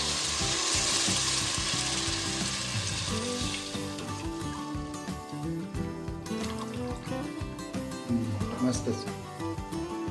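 Crab stock for a village-style crab curry is poured into masala frying in a pan, giving a loud, continuous sizzle and bubbling hiss that settles into steady frying, with a voice talking over it.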